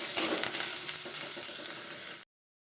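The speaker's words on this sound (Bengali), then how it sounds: "দেখুন আমি ঝিনুকগুলো এর মধ্যে দিয়ে দিলাম, দিয়ে ভালো করে ভেজে নেব যাতে আরও খেতে সুন্দর হয়" Oysters frying in oil in a wok while being stirred, a steady close sizzle with scraping and clinks from the stirring, ending abruptly in silence.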